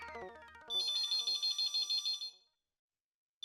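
A telephone rings with a bright electronic ringtone, a rapid pulsing trill for about two seconds, close and loud. A tone sweeps down just before it starts, and silence follows.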